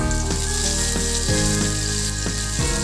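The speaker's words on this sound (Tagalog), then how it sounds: "I-pan fry natin ng carrots at potato." Carrots and potatoes pan-frying in chicken oil, giving a loud, steady sizzle with a few clinks of stirring on the pan, no talk.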